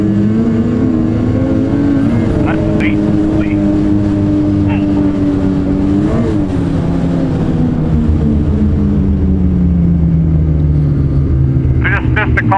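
Ski-Doo XRS 850 E-TEC snowmobile, a 2022 sled, accelerating close and loud, its engine pitch climbing and falling in repeated surges with continuous roaring drive and brief higher clatters.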